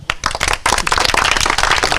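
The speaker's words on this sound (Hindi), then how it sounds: "ताली बजाइए आप लोग।" Dense audience clapping fills the space for a short burst after a call to applaud at a village gathering about an 11-year-old teacher, loud and close with many hands overlapping and no talk.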